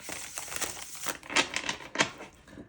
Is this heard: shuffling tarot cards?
yes